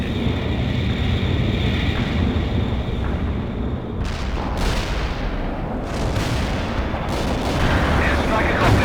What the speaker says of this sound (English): Airstrike accomplished.